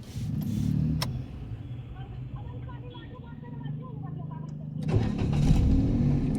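A car engine cranks and starts during a driving lesson, a short turnover near the beginning, then a steady low idle while the instructor and learner talk over it, with a louder rev near the end.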